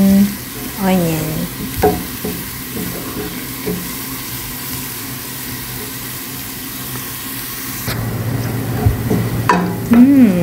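Onions frying in a pan as they turn golden, with a steady low sizzle and intermittent scraping strokes of stirring, a few louder clatters near the end.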